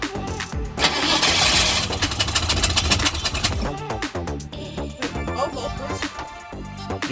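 A 1979 Ford F150 Ranger engine cranking and catching after carb cleaner and gasoline are fed in, then roaring loudly and running rough up close, its revs rising and falling.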